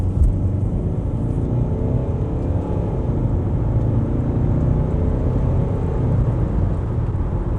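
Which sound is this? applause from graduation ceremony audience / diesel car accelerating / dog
diesel car accelerating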